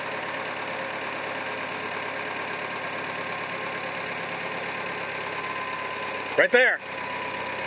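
A David Brown 990 tractor engine runs steadily with its hydraulic pump working under load, a constant mid-pitched drone throughout, with a brief louder surge near the end and a short spoken remark over it.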